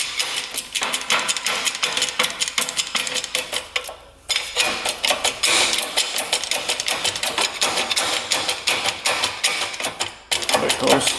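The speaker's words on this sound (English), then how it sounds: "So tighten that up and pump this till that bearing comes out." A hand-pumped hydraulic press pushes a crank bearing out of a big-bore quad engine, giving a rapid, steady clicking and ratcheting rhythm with two brief pauses, loud and close.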